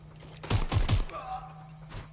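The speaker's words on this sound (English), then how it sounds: "Shots fired!" A quick burst of three or four close gunshots in the video game Watch Dogs: Legion, sharp cracks in rapid succession followed by quieter game ambience.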